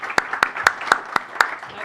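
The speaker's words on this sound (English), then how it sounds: "A big round of applause for the panelists." Applause from an audience closing a panel discussion on building resilience, sounding as a brief, thin patter of claps with a few sharper hits, fairly close and moderate in level.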